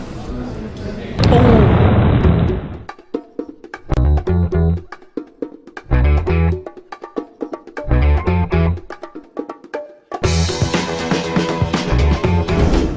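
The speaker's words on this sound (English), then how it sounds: "The explosion is like really important." Explosion effects from Assassin's Creed footage: loud, booming bursts repeated in several separate blocks with short gaps of quiet between them, each heavy and full.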